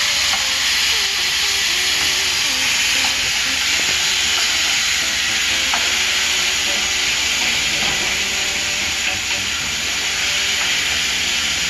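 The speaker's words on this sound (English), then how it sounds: "As the beef is browning" Ground beef browns in a pot for chili, giving a loud, steady hiss and sizzle throughout with faint scattered pops and scrapes, close by and with no talking.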